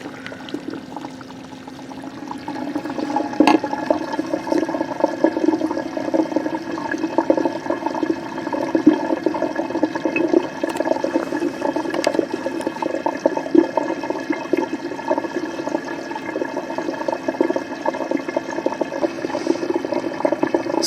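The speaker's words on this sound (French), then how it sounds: "Là, j'allume la pompe à eau." A water pump runs in a water filter scrubber, a steady whirring hum under a continuous rush of flowing water that stays even from start to finish, close by and with no voices.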